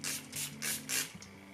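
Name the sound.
setting spray being sprayed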